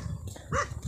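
A dog gives a single short bark near the middle, close and clear, against low background rumble in a village setting.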